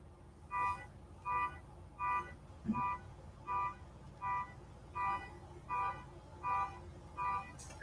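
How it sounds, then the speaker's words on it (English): A car horn honks over and over in a steady, evenly spaced rhythm, eleven short two-tone toots heard at a distance over a low background hum. "I hear honking."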